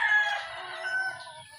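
A rooster crows once nearby, a short bright call that fades out, with faint soft clucking underneath.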